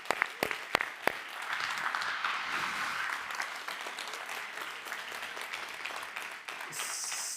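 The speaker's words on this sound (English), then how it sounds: "make a short, quick applause in the middle for these three people" A few sharp claps start a short, quick round of audience applause after an exercise session, the clapping building into a soft steady patter before tapering off.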